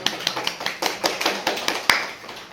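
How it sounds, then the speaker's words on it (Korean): Brief clapping from an audience at a missionary lecture, a handful of distinct, fairly close claps in a loose rhythm that fade out after about two seconds. "박수 한번 쳐주세요."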